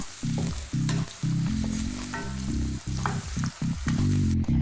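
Cucumbers sauté in hot oil in a pan with a loud, close sizzle, broken into bursts by frequent stirring and tossing, with no voices.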